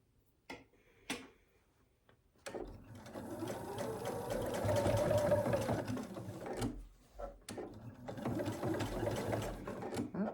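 A sewing machine stitches a fabric basket, running in a steady loud burr for several seconds between short pauses, with a few sharp clicks at the start and a second shorter run near the end.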